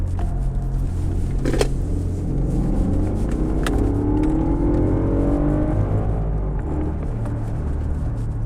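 A car engine revs and whirs from inside the cabin as the driver accelerates with rising pitch, then eases off while braking, a steady moderate rumble with no talk.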